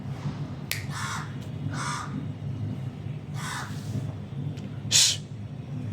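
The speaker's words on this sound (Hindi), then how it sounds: "कौवा कहाँ कर रहा है।" Several harsh crow caws in short bursts, some close together and one louder near the end, heard over a steady low hum in a cricket commentary setting.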